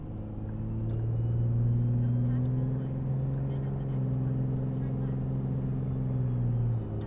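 A high-mileage Dodge Ram pickup with a Cummins diesel engine drives along with a steady, loud engine drone and a rising turbo whine, heard from inside the cab.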